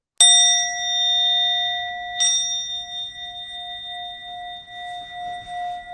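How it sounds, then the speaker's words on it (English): A single bright bell strike rings out and sustains with a long, clear, fading tone, and a second lighter metallic tap follows shortly after. "imagine there's a bell going off"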